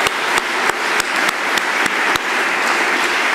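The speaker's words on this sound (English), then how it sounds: "Let's just give them another round of applause." A concert audience applauds after a performance celebrating Irish traditional music at a university, steady dense clapping with a few louder individual claps standing out, no voices over it.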